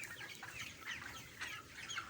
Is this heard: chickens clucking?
yes